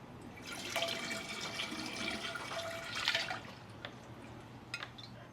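A small fountain pump pushes water through a tube into a vessel, giving a steady soft trickle with light splashing and occasional drips, close and fairly quiet.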